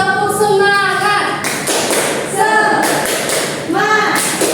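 Schoolchildren repeat a rhythmic patterned clap in a classroom, crisp clustered taps in bursts alternating with an adult voice and children's chanting.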